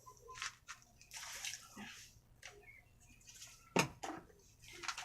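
Water poured out of a gas tank during a leak check, splashing and sloshing in irregular bursts with a sharper spill near the end, fairly faint against background noise.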